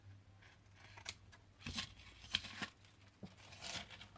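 A few short, crisp snips of scissors cutting a small ribbon in two, close and quiet, scattered over a few seconds with light rustling between cuts.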